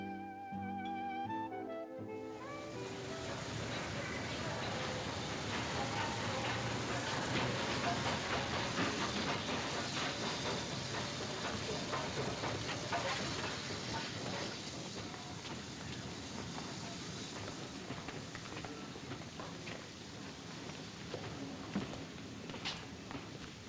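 A steam train at a station gives off a steady, broad hiss of steam with faint rolling clatter underneath, continuous and fairly close for over twenty seconds.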